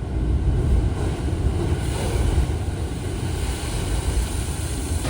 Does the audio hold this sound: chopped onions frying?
no